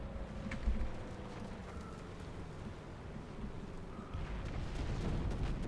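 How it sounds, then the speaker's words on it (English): Artillery fire in War Thunder: a dull low thump near the start, then a continuous rumbling roar of distant bombardment and wind-like noise that swells again toward the end, no voices. "Oh, freaking artillery."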